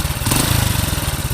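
A motorcycle engine runs after a timing chain repair, with a rapid, even, pulsing putter close up and loud, a brief rise in revs near the start, and no talking.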